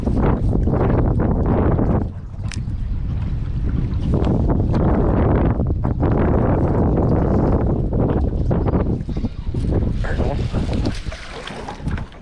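Strong wind roars and buffets the microphone continuously on an outdoor fishing trip, loud and gusty throughout, with faint talk briefly underneath.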